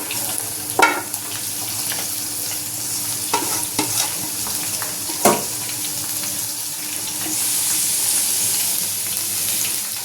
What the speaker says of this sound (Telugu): ఈ పచ్చిమిర్చి జీడిపప్పు కరివేపాకు ఇవి కూడా వేగాయండి